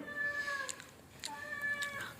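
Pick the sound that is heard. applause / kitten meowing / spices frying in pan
kitten meowing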